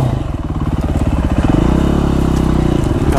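A 2017 KTM 450 SX-F dirt bike engine runs loud and close on a wooded trail, a rough pulsing idle climbing into a steady throttled drone, with no talk.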